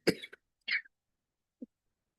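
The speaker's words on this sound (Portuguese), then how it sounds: "a minha tosse é engraçada" A short, sharp cough from a woman followed by a couple of smaller throaty bursts and a faint final catch, close up in an otherwise quiet room.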